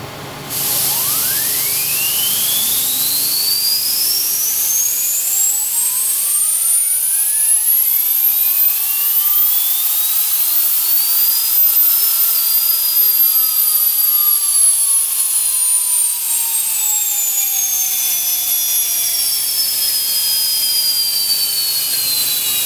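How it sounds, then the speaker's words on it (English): A RogueDZN VX model turbine is driven by compressed air and spools up from a low whir to a piercing, steadily rising whine, then holds and slowly eases. It is loud, close and continuous, with no talking. "So the turbines spooled up as they should have."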